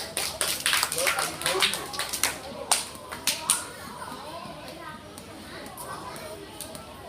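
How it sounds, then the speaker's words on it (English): Schoolchildren at an English camp at Ban Bu Yai School clap in a burst of quick, uneven claps that fade after a few seconds, with children's chatter and talk around them. "Clap for him."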